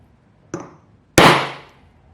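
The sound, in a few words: center punch hammered into a bolt shank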